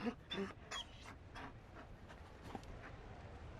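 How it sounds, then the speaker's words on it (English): A Mabari war dog in Dragon Age: Inquisition pants in quick, soft breaths, with a few faint whimpers and light footfalls close by, all fairly quiet and continuous throughout. "You found a dog? They don't breed Mabari in Olay."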